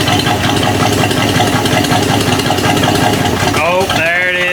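An old Jeep engine left sitting for 25 years runs loud and close with a rough, steady idle; a voice rises over it near the end.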